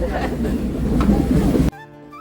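An old train runs on the Unai to Waghai line, a steady rumbling rattle of carriage and wheels up close that cuts off abruptly near the end, giving way to a quieter tonal hum.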